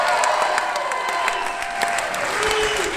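Steady applause with scattered cheers from a large crowd at a St. Louis Blues hockey fan event, continuous and fairly loud throughout, with sharp claps standing out.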